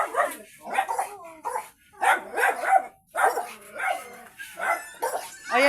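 Several dogs, among them newborn puppies, barking and yipping in a string of close, loud bursts with short gaps between them, some whimpering mixed in, and no clear talk.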